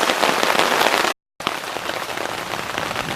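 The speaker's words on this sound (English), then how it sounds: "the rain is falling so much that it's hard to hear myself talk or think" Heavy rain pours down on a tent at a swampy campsite in North Florida in a dense, loud hiss, broken by a brief moment of silence before the downpour continues.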